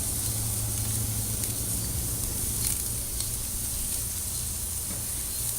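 Boneless petite sirloin steaks sizzling on a grill, a dense continuous hiss and crackle heard close and fairly loud with no talk.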